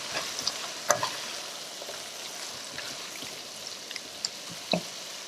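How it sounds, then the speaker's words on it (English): A pot of salmon stew seasoned with salt and black pepper being stirred, a soft continuous bubbling sizzle with occasional light clicks of a spoon against the pot, close and fairly quiet, no voices. "Give it a stir."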